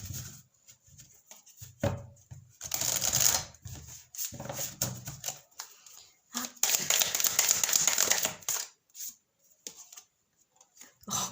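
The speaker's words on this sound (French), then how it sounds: "je vais vous tirer une carte ici" Tarot cards are shuffled and drawn from a deck in quick papery bursts of riffling and flicking, close and moderately loud, separated by short quiet gaps.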